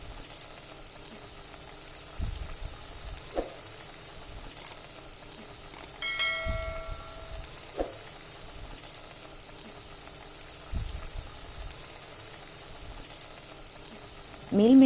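Soya chunk vadai fry in hot oil in a steady, close sizzling hiss, broken by occasional knocks and a brief ringing metallic tone partway through.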